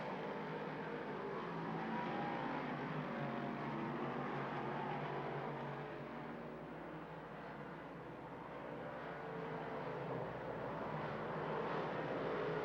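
Big-block dirt modified race cars at Lernerville Speedway, a continuous loud engine roar from a pack of cars circling the track, swelling and easing slightly as they pass.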